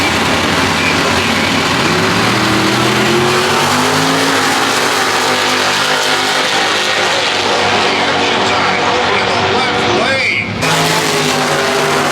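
Outlaw gasser drag race cars at a Christmas car party thunder off the starting line, engines roaring loud and continuous with rising revs and tire noise, under a busy crowd and announcer voices.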